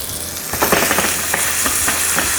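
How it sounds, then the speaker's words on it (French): Cod fillet frying in a pan, a steady close sizzle with crackling spatters and no talking over it. "on va laisser terminer la cuisson lentement dans la poêle"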